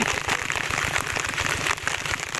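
Heavy rain pours steadily over rice paddies at planting time, a dense, continuous hiss close by with no voices.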